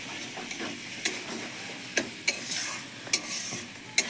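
Food fries in a wok with a soft, steady sizzle, broken by repeated sharp scrapes and clinks of a utensil stirring against the metal at an uneven pace.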